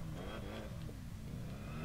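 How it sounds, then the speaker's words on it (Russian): A supercharged V8 Ford Mustang GT-R Concept in the video game Test Drive Unlimited drones loudly and steadily from inside the cabin, with a high supercharger whine riding over the low rumble. "при виде из салона у нас слышится звук компрессора"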